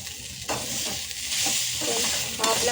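Chopped onion roasts in a pan with a steady hiss and crackle, while a spatula stirs and scrapes in a few distinct sweeps, close and fairly loud.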